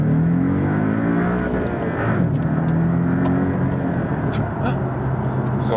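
A Porsche 718 Cayman accelerating on a racetrack in normal drive mode, engine note rising through the gears with rising harmonic sweeps, heard from inside the car under steady cabin and road noise.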